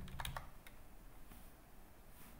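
Faint, quick keystrokes on a computer keyboard while software event data is entered, a short cluster of crisp clicks followed by a few isolated taps over quiet room noise.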